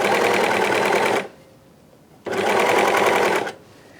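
A sewing machine stitches trim around a T-shirt neckline in two steady, loud whirring bursts of about a second each, separated by a brief pause, close and with no talking.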